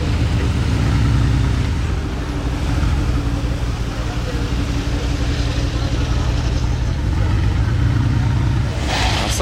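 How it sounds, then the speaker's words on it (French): A Brabus Mercedes G-Class 4x4 Squared arrives and overtakes on a Monaco street at night, its engine a loud, steady rumble that swells near the end, with voices talking over it. "Regardez quand même l'insolence du classe G 4x4 au carré Brabus qui arrive là, comment il dépasse."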